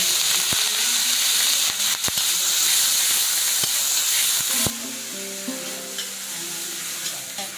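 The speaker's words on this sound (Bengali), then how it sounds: "আমি এখন এই পর্যায়ে দিয়ে দেবো পেঁয়াজ বাটাটা। এখানে আমি দিয়ে দিলাম।" Onion paste drops into hot mustard oil with cumin, bursting into a loud, close sizzle with sharp spatters and stirring clicks, then settling into a softer, steady frying hiss.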